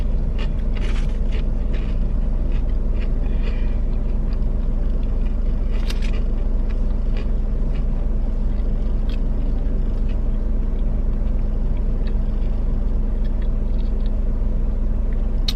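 A heavy loaded truck rolls downhill with a steady, loud low engine rumble filling the cab, and light rattles and scrapes sound over it throughout.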